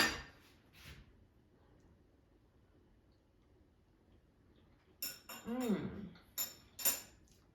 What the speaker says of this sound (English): Let me just cut it to show you that they're perfectly cooked through.